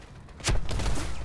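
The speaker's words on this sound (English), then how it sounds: "Who's shooting?" A single sharp gunshot-like burst from PlanetSide 2 combat, a loud broadband crack with a low thump, followed by a brief rumbling tail; no speech.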